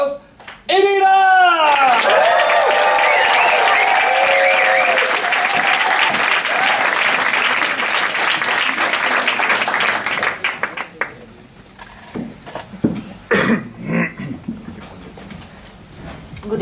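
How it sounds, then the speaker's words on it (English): An audience at a Bright Club science comedy night breaks into warm applause to welcome a speaker, opening with a sharp whoop, then dense clapping that swells, holds for several seconds and tapers into scattered claps and murmurs. "Give her a very warm applause"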